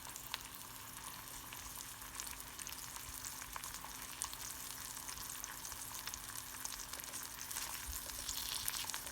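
Slices of lean, lightly spiced sucuk sausage fry in a pan with a continuous fine sizzle and scattered pops, close and steady, gently rising toward the end with no talking.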